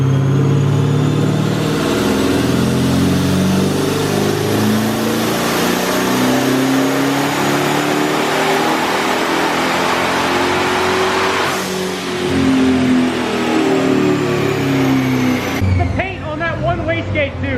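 A twin-turbo Camaro ZL1 roars at high revs on a dyno, its loud, sustained engine note rising and falling with turbo whine, then cutting off sharply near the end.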